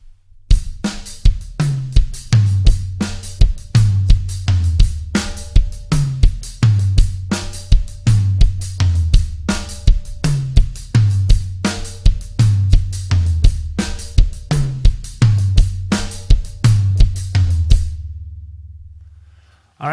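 A drum kit plays a 4 over 6 polyrhythm with a shuffle feel, dense steady cymbal and snare strokes over a rolling bass drum pattern for about eighteen seconds, loud and close, then stopping into a fading ring.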